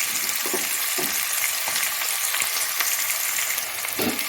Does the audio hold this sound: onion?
yes